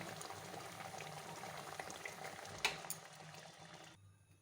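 Prawn malai curry simmers in a pan with a steady, soft bubbling and hissing, quiet and close, broken by a brief clink partway through. No one speaks.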